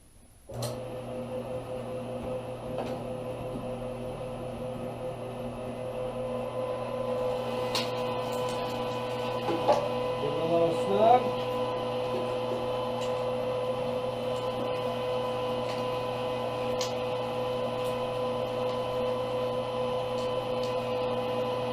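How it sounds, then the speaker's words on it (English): An electric meat grinder runs steadily while grinding pork for snack sticks, a constant mechanical hum and whir that stays close and unchanged throughout, with a few brief louder clunks partway through as meat feeds in. "So we'll start the grinder back up"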